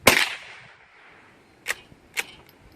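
Three rifle shots from a .22 LR squeeze bore fired during a penetration test on a 6x4 timber bearer: one sharp crack with a ringing tail, then two shorter, fainter reports about half a second apart, with no talk.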